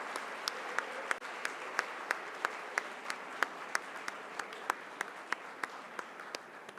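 Sparse, evenly spaced claps from a small audience at a national moot court competition final honour the winning team, each clap distinct and fairly faint over a quiet hall.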